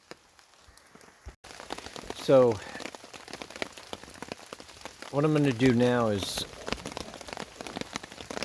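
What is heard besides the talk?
rain falling on a camp in the Catskills woods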